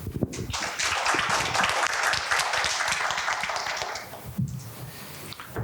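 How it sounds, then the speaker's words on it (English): Audience applause at a research workshop session, welcoming a speaker from a Korean collaborative research center: a steady wash of many hands clapping at moderate volume for about four seconds, then tapering off. "Please join me in welcoming him with a round of applause."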